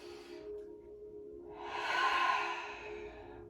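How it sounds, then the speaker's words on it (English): One slow, deep diaphragmatic inhale through the nose during a stretch and flex class, a soft breathy rush that swells and fades over about two seconds, close to the microphone with a faint steady hum beneath. "Diaphragmatic breathing, inhaling deeply through the nose."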